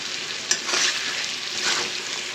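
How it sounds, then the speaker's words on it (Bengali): Pumpkin pieces fry in a pan, a steady close sizzle with two scraping stirs from a spatula, and a short click near the start. "কুমড়োগুলো ভাজা হয়ে গেছে, এরপরে আমি বরবটিগুলো দেব।"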